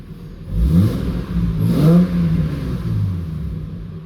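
A Nissan Patrol Y61 engine with a faulty MAF sensor circuit revving as the accelerator is pressed, rising to a loud close roar twice before settling back to a steady idle.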